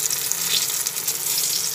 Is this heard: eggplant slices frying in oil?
yes